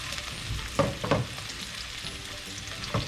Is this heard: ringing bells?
no